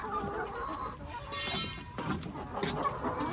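Chickens clucking and squawking inside a chicken coop, a steady mix of overlapping hen calls at close range with a busy, restless flock background.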